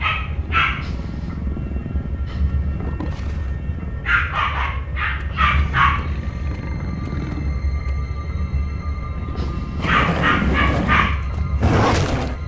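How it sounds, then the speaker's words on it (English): A puppy in the video game Penumbra: Overture barks and yips in repeated short bursts over a low ambient rumble, with a louder cluster of barks toward the end and no talking. "It's a puppy."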